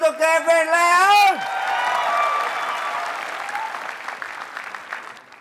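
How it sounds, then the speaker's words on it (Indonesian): A shouted voice rises and cuts off, then a television talent-show audience in Indonesia breaks into loud, sustained clapping and cheering that gradually tapers off. "Kasih tepuk tangan yang keras untuk Kevin Leon."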